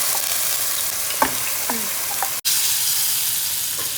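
Ground spice paste frying in hot oil in a pan for a Kerala prawn roast, a dense steady sizzle with a few sharp utensil scrapes and taps, close and fairly loud, with a short cut midway.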